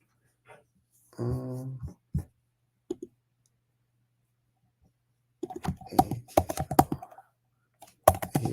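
Short bursts of clicking keys on a computer keyboard, a few isolated taps early then a denser run of close typing near the end, with a voice talking briefly in between.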